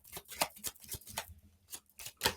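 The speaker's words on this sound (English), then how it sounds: "There we can see me shuffle." Tarot cards shuffled up close, a quick run of crisp riffling flutters and soft slaps in an uneven rhythm, no talking.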